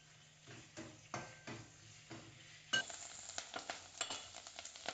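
Karadi soppu leaves roasting in a pan, with soft crackling sizzle and rhythmic stirring scrapes, growing busier and more continuous in the second half.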